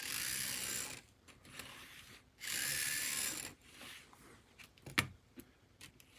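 A tiny HO scale Cosmic AEG Deki 3 model chassis runs in short bursts, a thin high whirring motor and gear buzz starting and stopping twice, followed by faint clicks and taps as it is handled.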